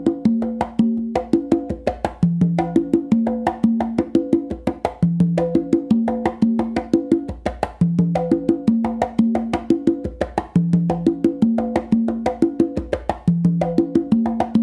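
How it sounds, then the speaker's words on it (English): Conga tumbao in the Georgie Padilla style, with extra ghost notes from the dominant hand filling a steady looping pattern of open tones and soft taps between them, close and loud with no talking. "you can add a little bit more ghosting here when it comes to your dominant hand"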